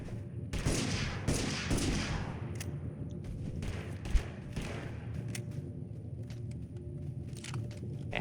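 Pistol shots in the video game Totally Accurate Battlegrounds, a run of sharp broadband cracks in the first few seconds followed by a scattered few more over steady game ambience, moderately loud.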